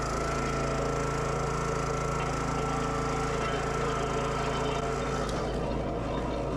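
A wood splitter works through big log rounds, its engine droning steadily and loud throughout with no talk.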